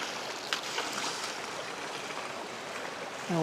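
Steady broadband rush of water being poured into a white bucket while gold prospecting at Las Huertas Creek, continuous and close for the whole stretch, with no talking.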